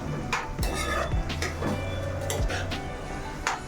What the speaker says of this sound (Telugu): సాల్ట్ చల్లుకున్నాక ఒకసారి కలుపుకోండి ఇలాగా.